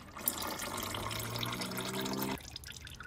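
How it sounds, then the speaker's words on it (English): Engine oil pours steadily from the drain of a 2018 Toyota C-HR Hybrid during an oil change, a continuous close liquid splashing that stops abruptly near the end, leaving quieter dripping. "so while the oil is draining"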